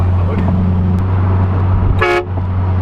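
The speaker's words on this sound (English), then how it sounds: "This Lotus has a train horn." Train horn fitted to a supercharged Lotus Elise sounds one loud, brief blast with stacked harmonic tones, heard near over a steady low engine drone.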